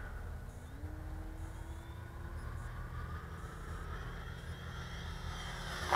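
An RC model TA152 airplane with a two-blade propeller makes a high-speed pass, a steady engine whine that shifts in pitch as it goes by, heard from a distance over outdoor background noise, with no talk.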